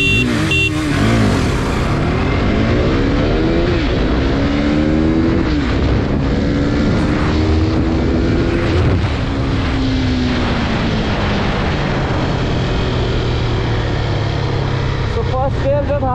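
KTM RC 200 and RC 390 motorcycles launching hard side by side, engines screaming loud and close as revs climb and fall through rapid gear changes, pitch sweeping upward repeatedly before settling into a steady high drone.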